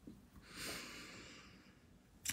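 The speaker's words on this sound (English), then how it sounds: "You don't have to watch me breathe." One person's slow, close breathing, a soft drawn-out exhale with airy hiss, followed by a short sharp sniff through the nose, faint and alone without talk.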